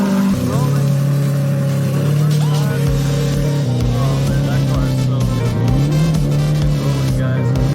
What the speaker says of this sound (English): After charging the battery for a while, he started the car.